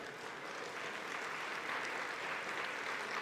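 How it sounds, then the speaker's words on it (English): Banquet audience applauding the event staff after a meal at an alumni awards dinner, a steady wash of many hands clapping at moderate level, sustained without pause for the full stretch. "let's give a round of applause to the entire staff of Fairy Tale Events for our delicious meal"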